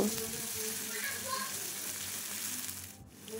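A ground spice paste fries and sizzles in oil for a rohu fish curry, a steady close hiss with faint stirring scrapes that dips briefly near the end and no voices.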